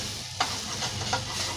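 Food fries in hot oil with nigella seeds, giving a steady close sizzle with two quick spatula scrapes as it is stirred.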